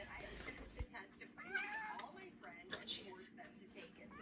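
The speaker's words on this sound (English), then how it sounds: "And Frankie, my female cat, is down here" Female house cat in a basement giving a few short meows amid nearby people talking, the cries close and fairly quiet between the voices.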